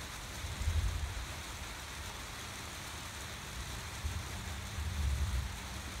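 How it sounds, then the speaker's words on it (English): Thunder from an approaching rainstorm rumbles low and distant in two soft swells, under a steady wash of outdoor noise that sounds like rain. "Yep, that's thunder."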